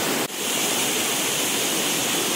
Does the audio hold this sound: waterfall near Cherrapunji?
yes